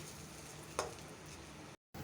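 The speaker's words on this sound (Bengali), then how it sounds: "চালগুলো ভাজা ভাজা করতে হবে" Rice grains being fried in a pan for pulao give a faint, steady sizzle with a single stirring scrape partway through, then a brief cut to silence near the end.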